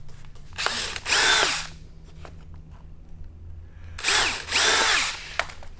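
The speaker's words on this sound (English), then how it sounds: "Drilling some holes for some zip ties." A power drill bores holes for zip ties on a mini bike with a Tillotson 225 engine, two short loud whining bursts separated by a quiet gap, close by with no talking.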